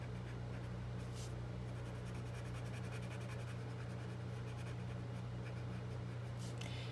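Colored pencil pressed hard onto paper, dense scratchy strokes running steadily throughout at a quiet, close level over a constant low background hum, with no one speaking.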